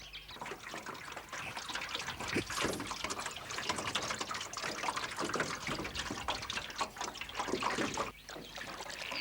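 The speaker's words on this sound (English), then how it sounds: "The men paddle along the lake until a good spot's found to run a net." Men paddle a boat along a lake while hunting crocodiles, with steady water splashes and trickling drips from the paddles running close by for the whole stretch, and no talk.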